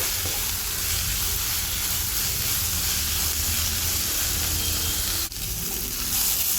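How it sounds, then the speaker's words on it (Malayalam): Onion, ginger and garlic sauté in a pan for a kadala (chana) roast, a dense, steady sizzle and crackle of frying with light stirring scrapes, close and continuous. "ഉള്ളി നന്നായിട്ട് വാടി വരുന്നവരെ വഴറ്റിയെടുക്കാം"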